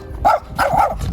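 A dog being walked through a large city park in Belgrade gives two quick, close barks in succession.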